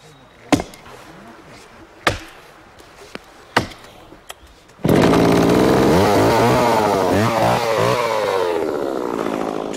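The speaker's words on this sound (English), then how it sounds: "Today, the chainsaw is used as its tip cuts down at an angle into the roots." A few sharp chopping thuds, then a chainsaw roars to life and runs loud and steady, its tip cutting down at an angle into tree roots close by.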